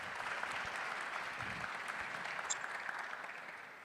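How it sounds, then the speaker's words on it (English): Audience applauding at a conference session on Ukraine, a steady, even wash of clapping held at a distance throughout, faint but continuous with no voices over it. "That deserves applause."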